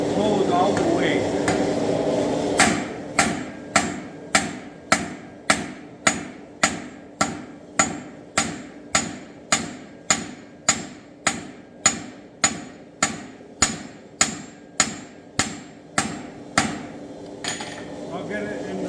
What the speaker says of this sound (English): we're going to pound a bevel on here